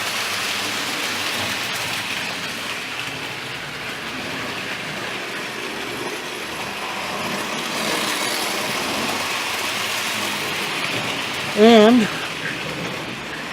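A Marx toy train runs steadily around a layout track, a continuous rumbling clatter heard close, with a brief brighter squeal near the end and a voice speaking faintly.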